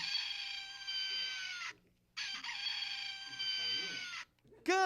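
Rooster crowing in two long, bright, sustained calls, each nearly two seconds with a short gap between, followed by a quieter stretch and a short burst at the end.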